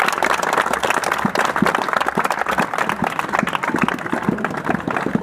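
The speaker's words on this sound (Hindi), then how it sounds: "तो उनके जन्म दिवस के लिए तुमसे एक बार ताली बजा दो।" Dense, continuous clapping from a group of children marking a birthday, many quick overlapping claps at an even level throughout, close and fairly loud with no talking over it.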